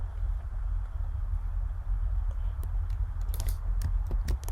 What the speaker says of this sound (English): Type in my question.